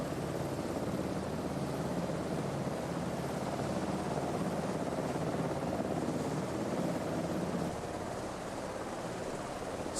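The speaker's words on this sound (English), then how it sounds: "I hear a helicopter." A helicopter in a flight simulator video game gives a steady, continuous rotor and engine drone at an even level, with no other sounds over it.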